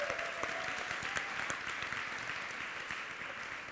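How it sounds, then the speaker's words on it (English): A congregation at a church service applauds: even, continuous clapping from a crowd, fairly soft and distant, holding steady for the whole stretch with no talk over it. "We can clap that up."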